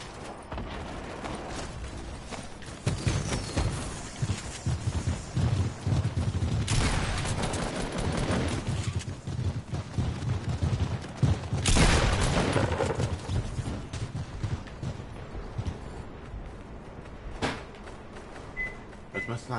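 Sniper rifle shots in a video game crack out as a few loud blasts amid scattered game noise and rapid clatter.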